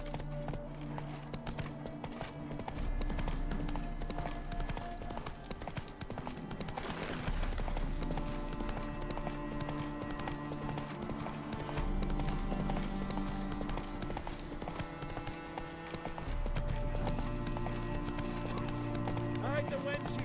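Hooves of Roach, Geralt's horse in the video game The Witcher 3, clip-clop steadily at a gallop throughout, with a low rumbling music bed and occasional voice over the top.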